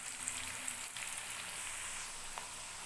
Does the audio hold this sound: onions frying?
yes